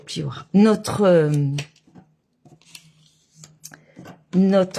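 A paper guillotine cutter (massicot) chops through card with a few faint, brief cutting and clicking sounds. They fall in a quiet gap between stretches of a woman's speech.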